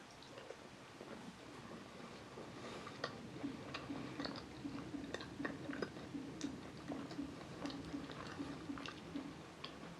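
Close, steady chewing of a Chinese New Year pineapple pastry with a soft crust and pineapple jam filling, heard as soft, regular mouth clicks and squishes with no talking.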